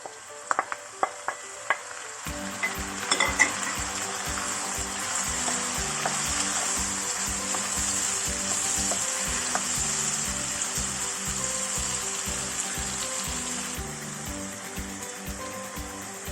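Tomatoes hit a hot sac pan with peppers for a Diyarbakır-style sac tava, starting with a few clinks before bursting into loud, continuous frying and sizzling with rhythmic stirring scrapes throughout and no speech.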